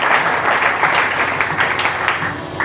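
Sustained applause from a church congregation at a Sunday service fills the room, a dense continuous clatter of many hands at moderate distance with a little background voice underneath.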